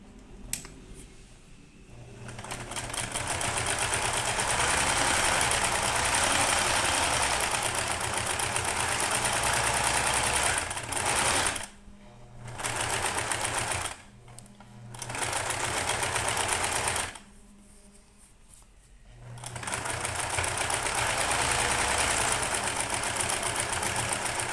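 Sewing machine stitching a fabric seam on a rabbit-shaped bag, a steady close whirring run broken by several brief pauses, with no talking.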